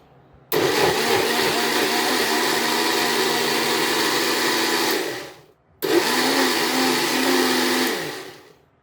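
A kitchen blender crushes mango and sugar for mango lassi, running loudly and steadily for about four and a half seconds, stopping briefly, then whirring again for another three seconds.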